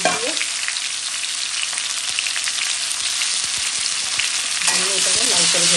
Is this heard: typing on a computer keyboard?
no